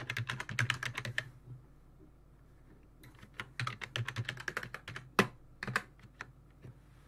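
A password goes into a computer keyboard during a Windows 2000 Server setup in a virtual machine: two quiet runs of quick key taps separated by a brief silent pause, close and soft.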